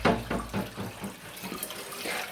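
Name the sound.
cold water poured into coffee maker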